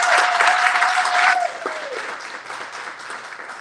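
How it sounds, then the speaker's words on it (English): A community gathering about Gaza and Palestine breaks into brief applause, dense clapping for about a second and a half before it thins and fades under a faint voice. "Can we give a round of applause to Medea Benjamin and Ty and Tracy?"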